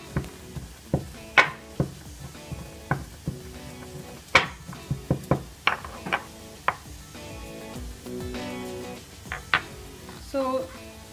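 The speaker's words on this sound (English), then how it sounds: "So we are going to pound this in this mortar and pestle." Fennel seeds are pounded in a mortar and pestle, a series of sharp, uneven knocks with ringing resonance, close and clear, with frying in the background and a short scraping grind near the end.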